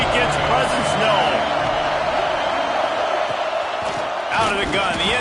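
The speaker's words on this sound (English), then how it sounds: "This crowd ready to make its presence known." Loud, steady roar of a packed college football stadium crowd at Auburn during Maryland at Auburn, a dense wall of cheering noise throughout with brief swells, a commentator talking over it.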